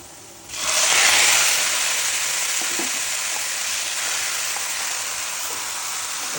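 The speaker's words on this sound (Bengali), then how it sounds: "ভাজা হয়ে গিয়েছে, এখন লাউ ঢেলে দিব।" Chopped bottle gourd hits a hot pan of oil with fried cumin seeds: a sudden burst of sizzling hiss, then a steady, slightly softer frying sizzle that continues to the end.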